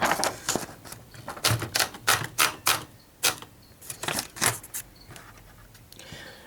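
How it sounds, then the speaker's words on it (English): A Royal KHM manual typewriter's tab mechanism being worked, giving a close series of sharp metallic clacks and snaps in uneven bursts, with brief pauses between groups. "You press the tab stop set, and it will move one of your tab blades into the outwards position"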